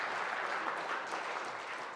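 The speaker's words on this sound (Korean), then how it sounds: "우리 뜨거운 박수 한번 부탁드립니다" Warm audience applause at a shared-growth forum in Korea, a steady, even wash of many hands clapping together, moderately distant and continuous throughout with no voices over it.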